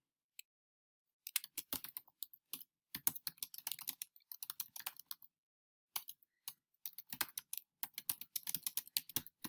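Brisk computer-keyboard typing comes in rapid bursts of close, crisp key clicks separated by short silent pauses.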